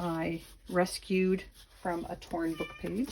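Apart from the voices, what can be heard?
cat screaming in the background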